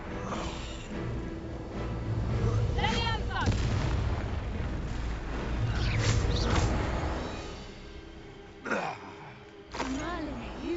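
Booming spell blasts and explosive impacts from the Bombarda spell in the Hogwarts Legacy video game, heavy and repeated through the first half, over a rumbling battle backdrop with speech near the end.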